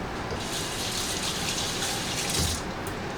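Hands being rinsed under a running kitchen tap after stirring basil-marinated tomatoes, a steady close gush of water splashing into the sink with no pauses throughout.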